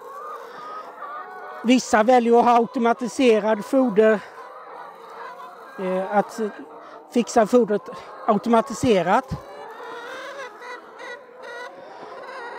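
Hens cluck and squawk in bursts as they are fed by hand, the calls clustered in short loud flurries with quieter gaps, while a person talks over them.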